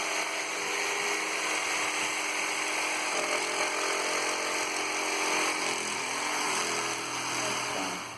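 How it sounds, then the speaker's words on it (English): Jigsaw cutting through a faux brick wall panel, a loud, continuous buzzing saw noise with a dense, steady rasp that holds without pause before easing off at the end. "cut those bricks out with a jigsaw, and then cut these out with the jigsaw"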